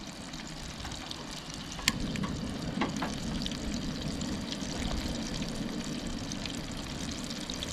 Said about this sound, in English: I'm going to fire up our veggies here